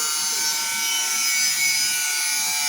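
Angle grinder cutting material at a house under construction, a steady harsh high-pitched whine with rasping grit, continuous and fairly loud throughout, with no talking.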